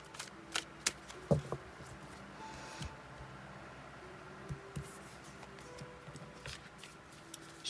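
Tarot and archetype cards shuffle softly at close range, scattered light flicks and taps through a quiet room with faint hum and no voices.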